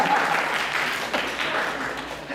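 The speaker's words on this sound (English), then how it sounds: "let us give a big round of applause" Audience applause fills a talk hall, a continuous wash of many hands clapping at moderate loudness for a couple of seconds, without voices over it.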